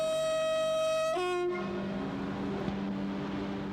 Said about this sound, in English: The Eurostar only appeared in 1994, yet this sleek international train is already a modern classic.